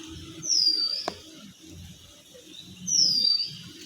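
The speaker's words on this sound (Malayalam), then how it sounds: "ഇങ്ങനെ സൗണ്ട് ഇങ്ങനെ കേൾക്കാം കുരുവിൻ്റെ" Sparrows chirp in two bright, sweeping bursts separated by a quieter pause, set against low outdoor murmur and a brief click in a house yard in the morning.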